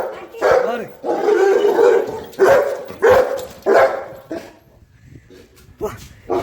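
A dog barks and whimpers in short bursts close by, with people talking over it.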